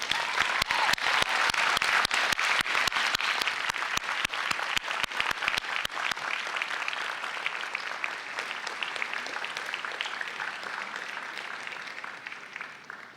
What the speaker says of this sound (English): give them a round of applause for supporting your journey